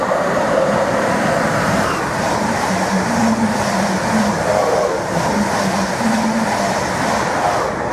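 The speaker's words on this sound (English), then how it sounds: "FLIRT 45006 has just passed through platform 2. En route to Norwich." Stadler FLIRT electric unit 45006 running through a platform at Stowmarket station, a steady rolling drone with faint wheel clatter and a soft, wavering motor hum, close and continuous throughout.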